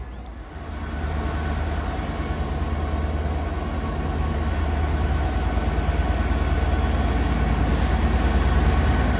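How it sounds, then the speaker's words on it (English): An Avanti passenger train passing through a Cheshire station, a loud, steady rumble and roar of wheels on rails that swells in and holds close throughout, with no talk over it. "There goes 39117 working Avanti service from Manchester Piccadilly to London Euston."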